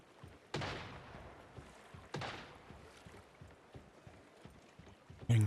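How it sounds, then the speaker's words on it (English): A few sharp gunshots crack out close by at intervals in the game Once Human, two louder ones early, over a quiet background with faint clopping thumps. "Hearing gunshots from very close to me"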